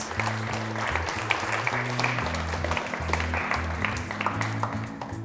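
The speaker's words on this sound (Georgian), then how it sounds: "აპლოდისმენტები ინდიაურას." An audience applauds the student team Indie Aura at a book quiz event. The clapping is dense and continuous under a low hum, moderately loud, with no one speaking.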